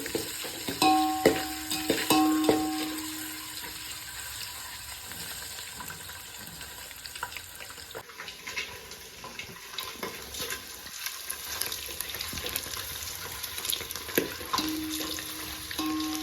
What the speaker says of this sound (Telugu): ఇవి నూనెలో వేయించితే ఇట్లా ఉబ్బుతాయండి